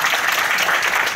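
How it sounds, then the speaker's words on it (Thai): An audience at an academic talk on artificial intelligence gives a brief burst of dense, steady clapping to welcome a speaker, loud and close with no voices over it. "ขอเสียงปรบมือต้อนรับท่านด้วยค่ะ"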